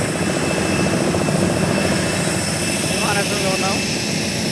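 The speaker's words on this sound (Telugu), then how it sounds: "చూడండి లీడర్స్, ఈ విమానం మేము ఎక్కబోయేది" Aircraft engines hum and whine in a broad steady roar at Hyderabad Shamshabad airport, with a person speaking over the noise.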